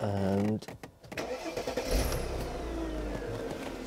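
A V12 BMW 7 Series engine cranks and catches after a short pause, then settles into a steady, close idle with a brief rev, while someone speaks briefly at the start.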